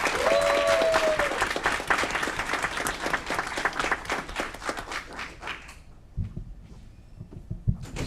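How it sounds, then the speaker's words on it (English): An audience at a city council meeting applauds with dense, sustained clapping that fades out after several seconds, leaving quieter room sounds. "Ladies and gentlemen, a big round of applause for the 2024 Miss Puerto Rico of Aurora, Danielle Hernandez."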